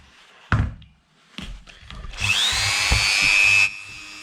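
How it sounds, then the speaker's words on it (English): A Dremel rotary tool cleans the pedals of a Goggomobil Volg 37. A few close knocks and handling thumps come first, then a short high whine runs for about a second and a half before stopping. "so I'll use the Dremel."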